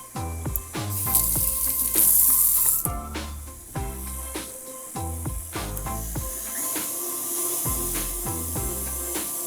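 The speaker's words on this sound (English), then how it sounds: "Wash my hand." Running tap water splashes over hands at a kitchen sink, a steady close spray with clinks and knocks of dishes and utensils scattered throughout.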